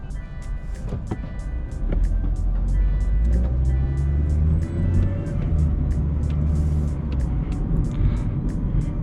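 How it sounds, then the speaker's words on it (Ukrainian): Inside a 2012 Mitsubishi Lancer 1.6 as it rolls along, a steady low road and engine rumble fills the cabin, with faint regular ticking over the top. "Машинка котиться зараз"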